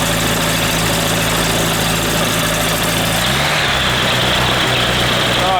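A trike microlight aircraft engine idles steadily with the propeller turning during a carburettor synchronisation check, a loud continuous drone that drops slightly in pitch and texture partway through, with a brief voice under it.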